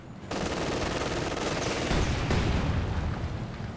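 Two StG assault rifles carried by German Grenadiers fire in the video game Company of Heroes 2, a dense, loud fusillade of overlapping automatic bursts that rolls on without a break and swells toward the middle.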